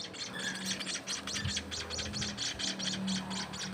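Emprit (munia) chick fledged from its nest, giving rapid, repeated high squeaky calls in steady bursts, close and fairly loud, with a low hum beneath.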